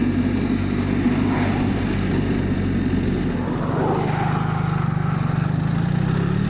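A BMW R1300 RT motorcycle overtakes on the road, its engine a loud, steady drone with rushing wind that shifts in pitch partway through as it accelerates past, close and continuous.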